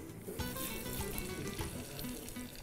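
Mustard seeds sizzle in hot oil during Tamil home cooking, a steady, fairly faint crackling hiss with small pops running throughout, with no voices.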